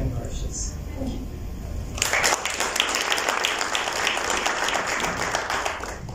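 Audience applause breaks out at an education partnership inauguration event in Mauritius, starting after a quiet moment and holding as a dense, steady wash of clapping from a sizeable crowd in a hall.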